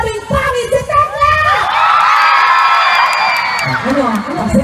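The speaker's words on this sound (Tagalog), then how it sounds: "Pumalakpak po na may kasamang iyawan ang sabing pangit si Tekla!" A comedy festival audience claps, laughs and shouts in a loud burst of cheering and whooping that swells and holds, with a performer's voice briefly heard at the start and end.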